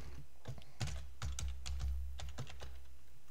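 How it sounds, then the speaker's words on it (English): A password is typed on a computer keyboard during a VMware vCenter Server 8.x installation, giving a close, steady run of several quick key clicks in uneven bursts over a low background hum, with no talking. "you would type in the password over here"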